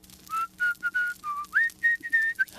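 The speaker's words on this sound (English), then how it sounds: "whistling Waltzing Matilda, a famous Australian song" A person whistles Waltzing Matilda, a lilting Australian melody, in short, clear phrases, close and alone against a quiet background.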